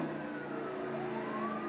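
Police siren sound effect in the Midnight Club 3 racing video game, a loud steady wail with a gliding pitch over continuous car engine noise, close and unbroken.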